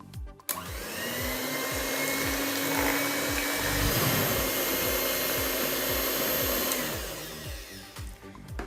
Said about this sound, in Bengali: আবার আমি 2 থেকে 3 মিনিট বিট করে নেব।